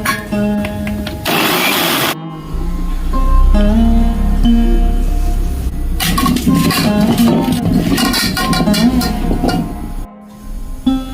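An electric grinder blends ginger, garlic, onion, green and ripe chilli and whole cumin into a spice paste, giving a loud, close, continuous grinding whir with several abrupt stops and restarts and changes in pitch.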